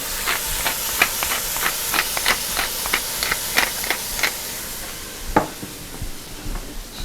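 Onions and garlic cooking with ground beef in a pan for red chili give a steady, soft sizzle and hiss, broken by repeated short scrapes and clicks of stirring, close by.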